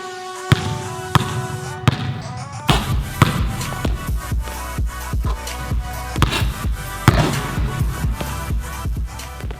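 A basketball is dribbled on a hard court before a floater shot, heard as a string of sharp, echoing bounces in an irregular rhythm, fairly close and loud in a reverberant gym.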